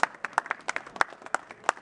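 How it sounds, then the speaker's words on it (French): A small audience gives scattered, uneven applause to a worn but running Simca 1500 with an automatic gearbox, made up of quick separate claps from a few nearby people over a couple of seconds. "Vous pouvez l'applaudir."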